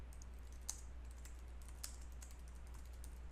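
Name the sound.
typing on a computer keyboard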